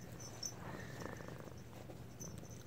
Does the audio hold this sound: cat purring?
yes